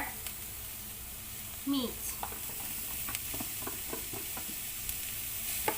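Palabok noodles with meat are stir-fried in a pan, giving a soft, steady sizzle with light scraping stirs, while a person speaks briefly over the cooking.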